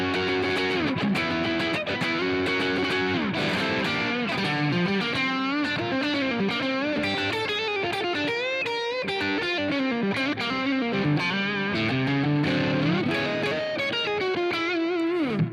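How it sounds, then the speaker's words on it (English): An electric guitar runs through a Pantheon overdrive pedal into a Lone Star amp, playing a continuous, busy lead line with bright, zingy, slightly thin drive, steady and close with no voices. "Here's the Pantheon on the Lone Star. More zing. A little more tiny sounding."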